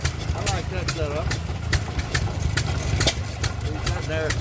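Old stationary engine at a tractor and engine show running steadily while driving a water pump, a continuous low chugging drone with regular sharp clicks, heard amid crowd chatter and voices nearby.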